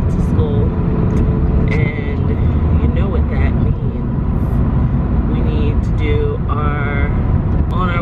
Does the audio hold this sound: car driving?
yes